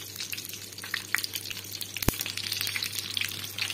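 Butter sizzles quietly in a pan with cauliflower, a soft, steady crackle of frying broken once by a sharp click.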